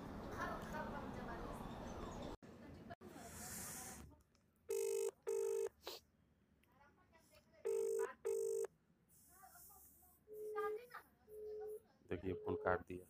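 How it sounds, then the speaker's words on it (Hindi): An outgoing phone call rings back in evenly spaced pairs of electronic tones, each pair separated by a short pause, with someone talking between the rings and at the start and end. "अब मैं दोबारा कॉल करता हूँ।"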